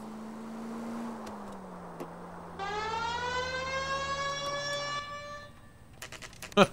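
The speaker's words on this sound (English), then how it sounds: "Turning my sirens a little too late there." A police car siren in the video game L.A. Noire slowly wails in pitch, then a brighter, rising electronic siren takes over, followed by a few sharp clicks at the end.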